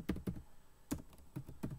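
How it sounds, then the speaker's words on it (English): Quick bursts of keystrokes on a computer keyboard, clustered taps with short pauses between groups, close and fairly quiet with no talking. "Let me just type this in real quick"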